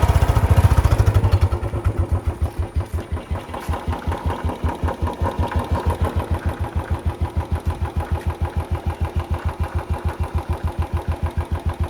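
Motorcycle engine starting with a brief cranking burst, then settling into a steady, close, rhythmic idle putter that keeps running.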